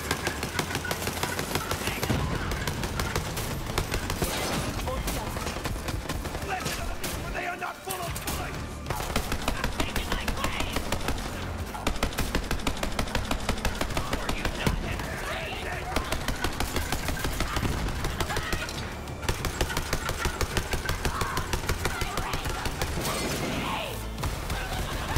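A turret firing in the Borderlands 3 shooter, dense continuous automatic fire with heavy impacts and explosions throughout, with players talking over the din.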